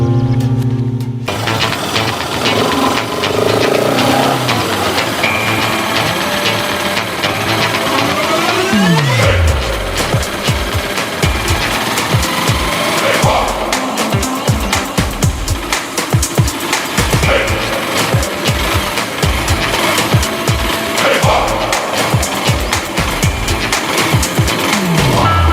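A motorbike engine runs steadily for a long stretch, a loud, close drone with rising and falling revs and some rattling, no talk over it.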